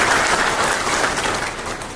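An audience claps loudly and continuously for a traders' federation at a public gathering, a dense burst of applause with no speech over it.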